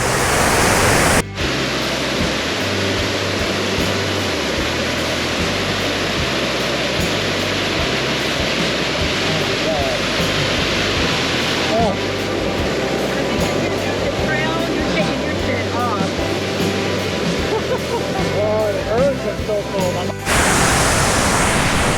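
Rushing river water at North Cascades National Park, a loud, steady roar of broadband noise that runs nearly unbroken for about twenty seconds and sounds close by.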